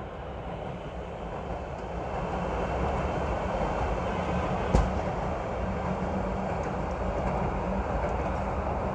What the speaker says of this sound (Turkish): Bir metro daha geçiyor.